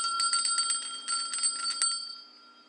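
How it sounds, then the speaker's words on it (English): Many bells ring together through a house, bright clanging strikes in quick irregular clusters that continue for about two seconds and then fade into a ringing decay. "so did every bell in the house"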